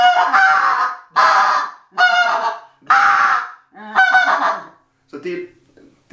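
A Greylag Hammer goose call imitates greylag goose honks with six loud, close, nasal honks in a steady rhythm, the last one shorter and softer, with no other sound.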